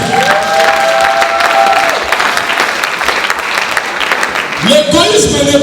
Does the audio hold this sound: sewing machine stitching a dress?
no